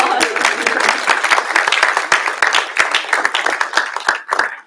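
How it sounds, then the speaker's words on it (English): A church audience gives a round of sustained applause, with dense and even clapping from many hands that fills the room and tails off near the end. "Let's give him another round of applause."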